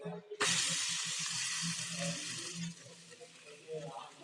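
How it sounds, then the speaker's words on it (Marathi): Loud, steady sizzling of a sabudana paratha frying in oil on a hot griddle bursts in suddenly, crackling continuously, with faint voices murmuring beneath. "तर तो पराठा आता आपण तव्यावर टाकू"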